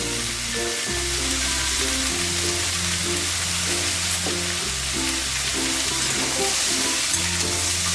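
Pumpkin fries in a pan on a high flame as turmeric powder is stirred in, a steady sizzle with scraping stir strokes and a low background hum, no voices.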